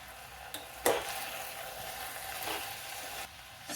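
Drumstick pieces sizzle steadily in a pan with salt and chili powder, broken by the scrape of a stirring spoon near the start; the frying stays close and even throughout with no voices.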